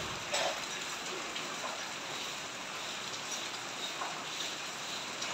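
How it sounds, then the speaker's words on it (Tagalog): Steady rain falls at a construction site where ceiling installation is under way, a soft even broadband hiss with occasional faint drips, continuous throughout with no talk. "maulan na araw ngayon"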